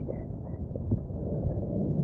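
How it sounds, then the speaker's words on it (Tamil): Heavy rain pours at the Vijayalaya Choleeswaram stone temple in Narthamalai, a dense, muffled low roar that stays constant and close for the whole stretch. "இன்னைக்கு என்னன்னா மழை அதனாலதான் சரியான மழை"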